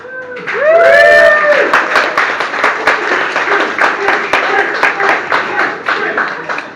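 A crowd at a stand-up comedy night in a bar in Grantham claps loudly and cheers, with whoops rising over dense applause that continues steadily throughout.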